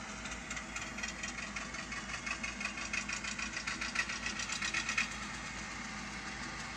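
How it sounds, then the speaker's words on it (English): A Piko Whitcomb N scale model locomotive runs along dirty track with a steady, fine mechanical buzz and rhythmic clicking that swells in the middle, close and continuous with no talking. "It's about the smoothest running locomotive I've ever had straight out of a box."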